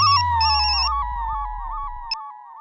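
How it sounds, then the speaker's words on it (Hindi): Telephone ringing unanswered in an office scene, an electronic trilling ringtone in bursts that fades into a steady warbling tone, clear and close with a few faint knocks underneath. "ये थापा फोन क्यों नहीं उठा रहा?"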